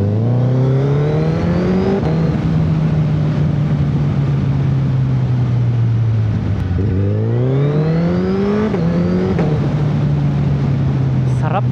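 A Suzuki Hayabusa motorcycle engine roars loud and close while riding, rising through the gears in long revving pulls with brief dips at each shift, under a constant rush of wind.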